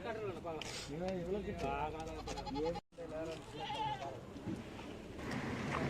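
Goats bleat repeatedly at a busy Friday goat market in Morppalayam, with wavering calls from several animals nearby, overlapping with people talking throughout.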